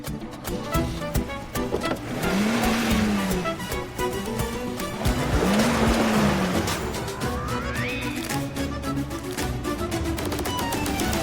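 A car is driven fast, its engine roaring steadily throughout with rising and falling pitch and a brief tire squeal, under a dense layer of background music and effects.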